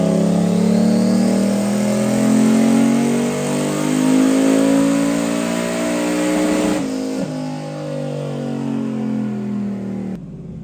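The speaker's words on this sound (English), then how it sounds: "This past we tried to raise the rev limiter 400 RPM, see if it'll go any higher" A no-prep Mazda RX-7 rotary engine revs hard and holds against the rev limiter, loud and close, the sustained wail fluttering and stuttering at the cutoff before dropping off near the end.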